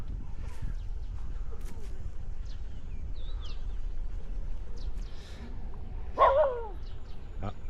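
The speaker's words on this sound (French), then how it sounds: "Ah, il y a un chien qui est là." One sharp bark from a free-roaming dog rings out near the end, outdoors in rural Thep Sathit in Isan, Thailand, over a bed of wind and faint birdsong.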